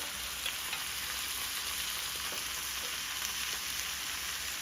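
Marinated chicken pieces frying in hot oil with onions, a soft, even sizzle that hisses steadily throughout at low volume, with no voices.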